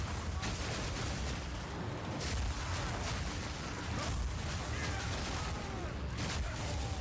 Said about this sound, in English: Herald of Ice to create these icy chain explosions